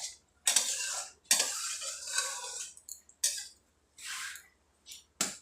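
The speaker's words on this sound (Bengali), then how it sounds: "এভাবে খুন্তি দিয়ে চেপে চেপে সামান্য একটুখানি আমগুলোকে ফেটিয়ে দিলাম" Boiled mangoes mashed with a spatula in a pan: irregular scraping and squishing strokes, some sharp and some softer, with short silent gaps between presses.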